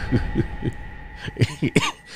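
A few short throaty coughs in a quick run, then several more sharp bursts, close and fairly soft.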